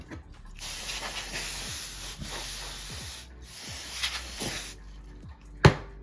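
Compressed air blasts in short hissing bursts across the fan area of a cheap MacBook Pro being refurbished, three broad sprays with soft rubbing and scraping handling sounds between them and a sharp click near the end.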